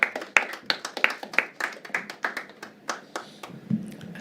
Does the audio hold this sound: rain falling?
no